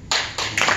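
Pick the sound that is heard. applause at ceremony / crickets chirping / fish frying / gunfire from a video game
applause at ceremony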